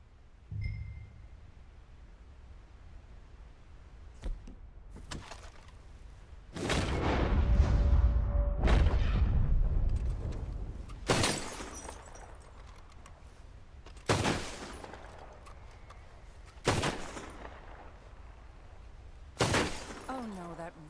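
Sharp gunshots from Arthur firing in Red Dead Redemption 2, a run of loud separate cracks spaced a few seconds apart, with a heavier rumbling burst early on and low game ambience between the shots.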